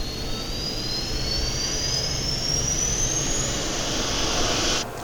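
An ERJ175 auxiliary power unit spools up in a flight simulator, a steady jet-like roar with a thin whine rising slowly in pitch before the sound drops away near the end.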